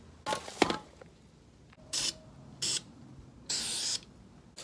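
Spray paint can hissing onto a CatchSurf foam surfboard in several separate bursts, short and long, close and clear with quiet gaps between, preceded by a few rattles and rubbing noises.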